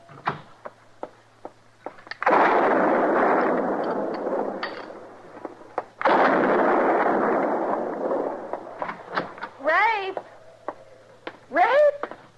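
Sharp gunshots crack out across a western radio drama scene, several short bursts separated by stretches of broadband rumble, with dialogue and other dramatized effects around them.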